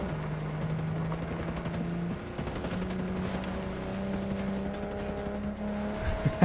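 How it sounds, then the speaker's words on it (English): Enemy gunfire in Ghost Recon Breakpoint erupts in dense bursts and rattling volleys over a steady vehicle engine drone, loud and continuous throughout, with a couple of sharper shots near the end. "They see you. They start shooting at you"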